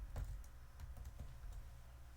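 A short run of typing on a computer keyboard as Java code is entered, scattered close clicks with small pauses between them, no voices.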